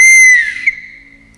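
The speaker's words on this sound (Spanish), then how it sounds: "el silbato de Dios," A single shrill whistle blast, loud and near, bending slightly in pitch before trailing off.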